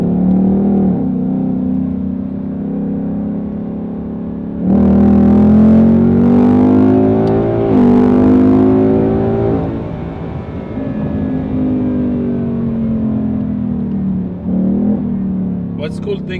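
Ford Mustang GT V8 engine and exhaust revving, a loud deep rumble that surges sharply in pitch several times, rising and falling through sustained throttle blips with a steady idle between.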